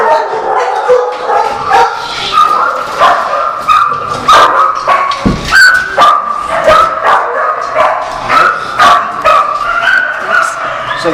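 Dogs at an animal shelter bark, yip and whimper in rapid repeated bursts close by, while a person talks over the noise.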